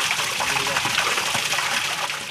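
Water from a spring-fed well gushing into a bathing font, a steady close splashing rush with a faint voice underneath.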